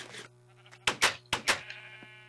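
Two pairs of sharp, loud sheep bleats from Minecraft sheep, each pair quick back to back, rising over a steady low hum and faint game background with no talking.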